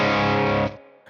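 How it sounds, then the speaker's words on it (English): Electric guitar played through a Tone King Imperial tri-tube preamp with heavy distortion: a loud, thick sustained chord that rings for most of the moment, then cuts off abruptly and decays, with a faint pick noise at the end. "A little too much distortion there."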